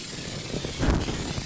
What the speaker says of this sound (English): Spraying upside down and then spraying to the wall.